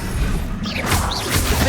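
A Confringo blast spell cast in the video game Hogwarts Legacy, a burst of crashing, whooshing impact noise layered over dense game sound, repeated fiery swooshes close and loud.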